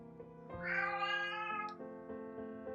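A house cat meows close by with one long, drawn-out cry, then several shorter, fainter mews follow over a soft background.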